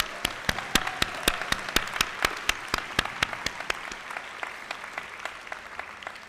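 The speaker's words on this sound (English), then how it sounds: "Let us give them a round of applause." Applause for award recipients at a university convocation ceremony, with sharp, regular individual claps ringing out over a softer audience wash that slowly fades over about six seconds.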